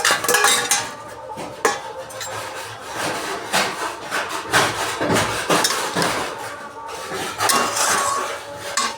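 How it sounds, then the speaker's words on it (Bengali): Boiled, salted spinach sautéed in a pan, with loud rhythmic scraping and knocking of a spatula against the metal, stroke after stroke, close up and without talk. "এবার আমি পালং শাকটিকে সিদ্ধ করে রেখেছিলাম লবণ দিয়ে, এটাকে আমি দিয়ে ভালো করে কষিয়ে নেব।"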